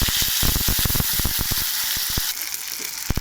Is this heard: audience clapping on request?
no